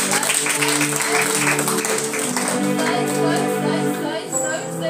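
A church congregation at a Sunday service claps together, a loud run of clapping mixed with voices and music-like tones throughout.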